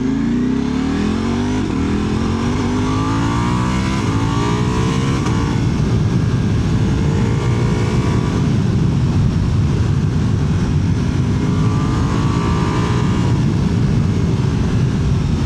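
Ducati Multistrada V4 RS motorcycle engine pulling hard while riding, a loud continuous roar rising and falling through the gears, with wind rush and no talking.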